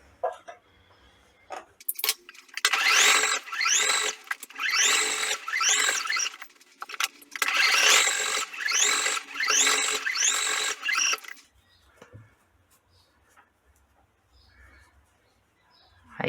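A sewing machine stitches the ear onto a lion-themed hooded towel in several loud, close runs separated by brief stops, then goes quiet.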